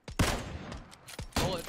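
Gunfire in the battle royale game PUBG: a few sharp shots in quick bursts, with a pause between, fairly loud and near, with no talk over them.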